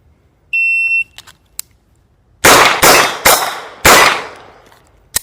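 A Staccato CS pistol with a 3.5-inch barrel fires four loud, sharp shots in quick succession, following a short electronic shot-timer beep and a few faint clicks.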